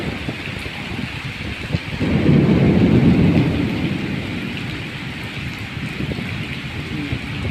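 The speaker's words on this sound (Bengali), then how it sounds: "অনেক বৃষ্টি হচ্ছে অনেক অনেক বৃষ্টি হচ্ছে" Heavy rain pours down during a day of fishing outdoors, with a loud rumble of thunder swelling after a couple of seconds and slowly fading under the constant hiss of falling water.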